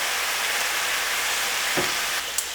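Steak and sauce sizzle hard in a pan with the pan juices as they are stirred for Peruvian lomo saltado, a steady bright hiss, close, with a soft scrape near the end and no talking.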